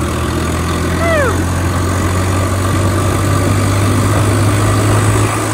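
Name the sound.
tractor engine running on road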